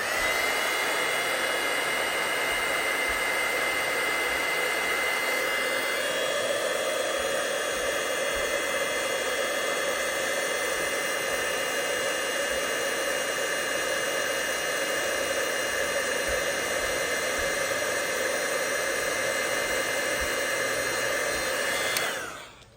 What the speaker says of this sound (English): So now I'm just going to grab my heat tool.